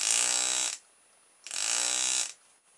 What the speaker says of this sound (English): Quick demonstration. Battery, reed switch, electric motor, magnet on the end of a stick.